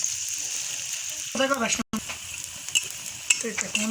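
Mustard flower fritters fry in hot oil with a steady crackling sizzle, close by, while a voice speaks in short bursts over it.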